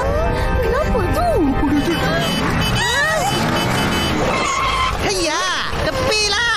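Animated fire engine rushing past toward a burning village hall, its siren rising and falling in loud sweeping wails over engine rumble, with children's voices talking throughout.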